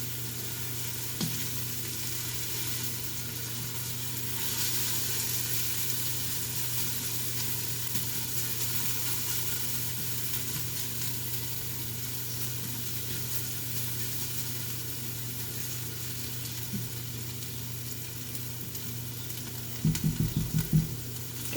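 Onions fry in a pan for braised red cabbage with a soft, steady sizzle and occasional stirring scrapes, heard faintly over a low constant hum. A brief clatter comes near the end.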